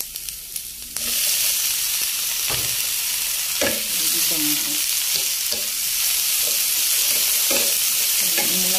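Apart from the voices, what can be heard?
tomatoes sautéing in a frying pan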